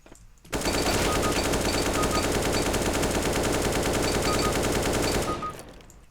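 Rifle gunfire in the video game CS:GO, a sustained rapid automatic burst lasting about five seconds, loud and close with a dense rattling rhythm, then quickly fading, with no talking.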